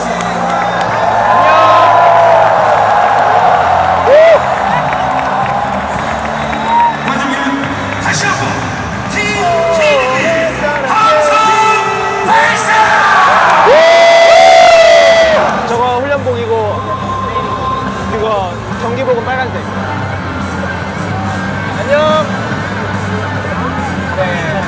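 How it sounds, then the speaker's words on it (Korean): Dense stadium crowd at a K League football match cheering and whooping continuously, a loud roar that swells to a peak midway, with shouts and chatter throughout. "환호를 해줘야 되는 거예요."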